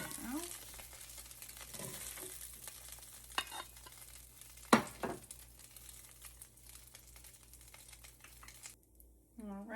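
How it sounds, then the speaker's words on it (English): Homemade pierogies pan frying: a quiet, steady sizzle with scattered crackles and scraping, faint throughout, with occasional soft rustling and clatter near the pan. "You just want to pan fry them for a few minutes."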